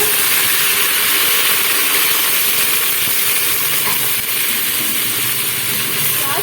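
Loud, steady sizzle and hiss from a cooking pan as a little water goes in over ginger-garlic paste and whole garam masala for chana pulao, continuous and close for several seconds with no talking.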